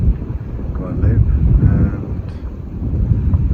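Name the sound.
wind at Les Saintes bay, Guadeloupe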